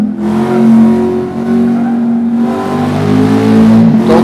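A 1971 Camaro Z-28 V8 engine revs loud and close, a sustained throaty roar that swells and dips through several throttle blips.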